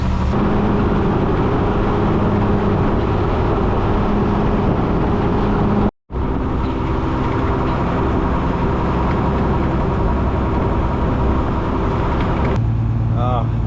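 Steady car engine and road traffic noise rumbling continuously up close, broken by one brief dropout, with a short whistle-like sound near the end.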